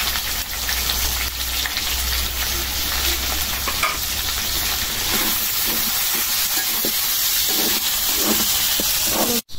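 Onions frying in a pan produce a loud, continuous close-up sizzle and hiss with crackling and occasional stirring scrapes, and a low hum underneath early on.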